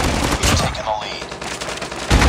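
Rapid automatic gunfire from the mobile shooter Call of Duty Mobile, dense overlapping shots rattling close and loud throughout with a heavier burst at the end.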